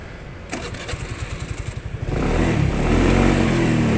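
A used Suzuki Address or Nex 2 scooter engine cranks with a rapid chugging pulse, then catches and revs into a loud, steady, close drone.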